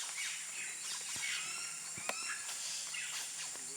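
A tame macaw at a Peruvian jungle lodge gives a few harsh squawks over a constant wash of insect and bird chorus, with a sharp knock in the middle.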